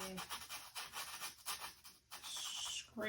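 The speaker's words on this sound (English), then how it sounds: "I have no paint really on my brush. I'm just dry brushing, scraping" A nearly dry paintbrush is dry-brushed, scraping across a painting surface of an ocean scene. The strokes make soft, quick, bristly rasps in an uneven rhythm, close and faint.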